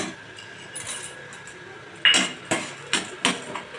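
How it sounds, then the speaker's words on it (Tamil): Half a cup of chana dal poured into a frying pan of hot oil with fried asafoetida, giving several short, close clinks and rattles spaced about half a second apart over a quiet background. "இப்போ 1/2 கப்பு கடலைப்பருப்பு போடணும்"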